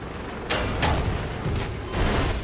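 Aircraft in a Garry's Mod game bomb a gas station, setting off a few heavy booming blasts over a dense, roaring background rumble, with no voices.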